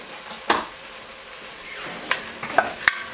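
A spoon stirs thyme and melting butter in a cooking pot for chicken and dumplings, with a soft sizzle under a few sharp metallic clinks and scrapes.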